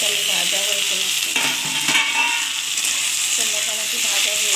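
Mixed vegetables fry and sizzle in a pan for Katoya-style note posto, a continuous crackling hiss with scraping stirs now and then, close and steady, with no talking.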